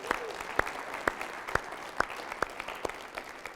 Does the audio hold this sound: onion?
no